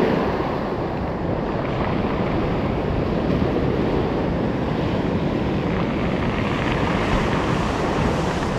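Waves roll in at night onto a round-stone beach, their surf a loud, unbroken wash close by mixed with wind noise, and no voices.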